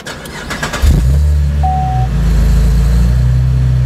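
A 2015 Chevrolet Camaro with a 3.6L V6, automatic transmission and Borla muffler exhaust starts up: a brief starter crank, then the engine catches with a loud rise and settles into a steady, close idle rumble, with no talk.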